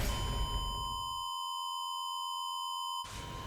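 In the video game Danganronpa, a steady electronic alarm tone rings out, pure and piercing with layered high harmonics, holding continuously before cutting off abruptly, then a loud noisy burst begins.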